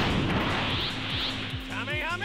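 A Kamehameha energy blast fired in the Dragon Ball Raging Blast 2 fighting game, a loud, sustained roaring burst with rising, sweeping tones toward the end, mixed with a voice.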